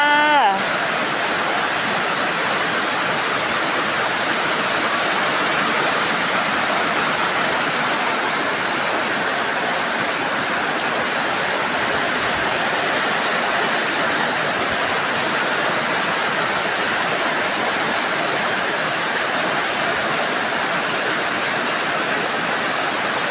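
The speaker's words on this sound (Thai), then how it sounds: "เอาภาพฝนตกมาฝากนะคะ" Steady, dense rainfall hisses continuously at a constant level, a broad wash of water noise with no breaks throughout.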